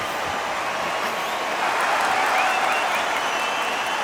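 A crowd in a boxing arena from the video game Undisputed applauds and cheers in a continuous, dense roar that swells slightly midway through.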